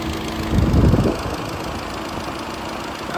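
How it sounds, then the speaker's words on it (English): Radiator cooling fan of a VW Golf 7 GTI that had an overheating problem, running with a steady whooshing drone and a louder surge near the start, heard close up. "it is kicking, as you can hear it."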